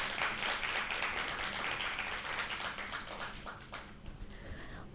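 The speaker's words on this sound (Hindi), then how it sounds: "एक बार जोरदार तालियां हो जाए प्लीज।" An audience claps to welcome a guest on stage at a health show event, a steady burst of many hands that gradually thins to scattered claps near the end.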